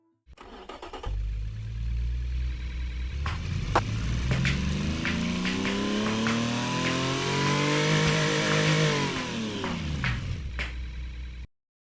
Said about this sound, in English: Now let's give you a pull test of the stock and standard issue 500cc motor right now.